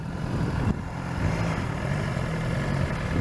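A BMW S1000XR motorcycle engine runs smoothly at idle-like pace, a low continuous drone with mild wind rumble over it.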